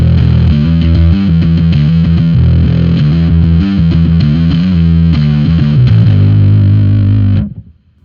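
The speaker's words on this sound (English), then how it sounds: "that Boss distortion doesn't sound great on its own" A Boss distortion pedal run without a preamp on a Master Effects Super 300 setup gives a loud, continuous distorted guitar tone with strummed chords, sustained nearly eight seconds before cutting off abruptly.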